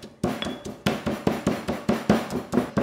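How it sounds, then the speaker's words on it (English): Green cardamom being crushed for Massaman curry paste, a run of about ten close, regular pounding thuds at a steady rhythm. "get some green cardamom and give it a good crush."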